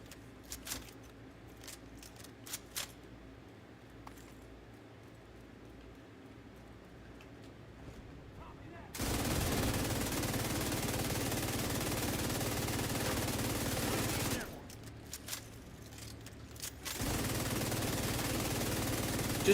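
Machine-gun fire in The Division 2, heard as a few scattered shots at first, then long loud continuous bursts that roar steadily, stop briefly, and resume.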